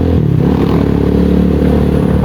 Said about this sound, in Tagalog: Talagang tahimik ang makina pag itong diesel oil ang gamit.